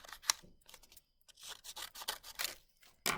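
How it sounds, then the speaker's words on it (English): Scissors snipping along drawn lines on paper to cut spikes for a homemade dinosaur hat, a series of short crisp close cuts with brief rustling pauses between them. "And then I'm going to cut along the lines"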